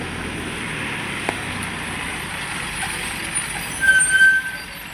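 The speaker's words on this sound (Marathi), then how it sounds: "बस आली पोरं जातील बघा" A school bus arrives on a rainy morning as a steady low engine rumble with a brief brake squeal near the end, set against constant outdoor rain and wind noise.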